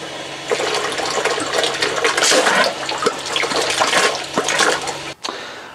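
Hot water draining out of the outlet of a Floe Induratec 868 water drainage system, a loud continuous gushing splash that runs for several seconds, then drops away abruptly near the end.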